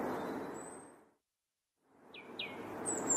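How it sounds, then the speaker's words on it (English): Small birds chirp in a few short, bright calls near the end, after a quiet gap that follows a stretch of broad background noise; no one speaks. "Naughty birds."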